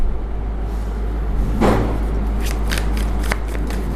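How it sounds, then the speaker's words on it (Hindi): Tarot cards being shuffled by hand, a papery riffling burst near the middle followed by a few lighter flicks and shuffles, close up over a steady low hum with no talking. "शफल करके रखेंगे हम कार्ड्स को"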